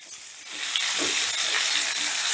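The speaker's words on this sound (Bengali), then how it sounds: "এবারে এই সবজিটাকে ভালো করে আমি ভেজে নেব।" Sliced vegetables for a mung dal and bottle gourd greens dish frying in a pan, a broad continuous hissing sizzle that swells and holds steady, with faint stirring.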